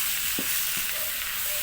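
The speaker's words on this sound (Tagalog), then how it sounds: "Haluin lang natin" Adobong isaw being stirred in a sizzling pan, with a steady bed of frying hiss and a couple of brief utensil scrapes.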